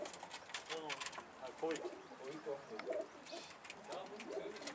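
A street pigeon coos softly while feeding two chicks by regurgitation, with low burbling calls under people's talk nearby.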